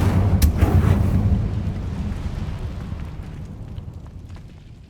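Incendio fire spell cast in the Hogwarts Legacy video game: a loud burst of whooshing flame with sharp crackles at the start, fading into a lingering rumbling roar.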